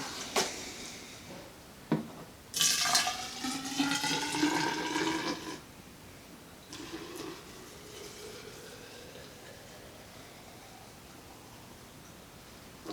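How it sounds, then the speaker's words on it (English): CLR cleaner poured into water during a water heater cleaning, a bright splashing gush lasting about three seconds, followed by a softer trickle and faint background hiss. "So let's pour some CLR in there."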